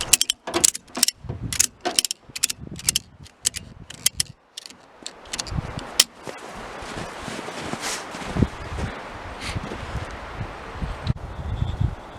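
A 3,300-pound ratchet strap is cranked to secure a snowmobile on a pickup truck. It gives a close series of sharp ratcheting clicks, followed by rustling and handling noise outdoors.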